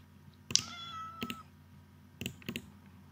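Cats meowing in the Minecraft video game: a drawn-out, rising meow near the start, followed by a few short, softer meows later, over a low steady background hum.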